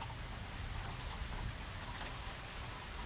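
Steady, even rainfall hisses throughout as a dense wash of drops, moderately loud and with no pause or voices.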